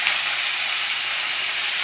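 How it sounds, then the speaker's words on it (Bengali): Potatoes frying in a pan on a home stove give off a steady, close hiss of sizzling oil, constant and fairly loud throughout. "চলো, আলুটা ভাজা হচ্ছে"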